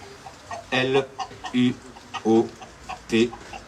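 A chicken on stage during a one-man comedy show, clucking in a series of loud, close squawks and clucks spaced across a few seconds, with a faint room hum behind.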